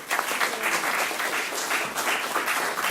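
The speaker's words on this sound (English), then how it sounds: "Keep that applause going." Wedding guests clapping together in a sustained round of applause, dense and even throughout, no talking over it.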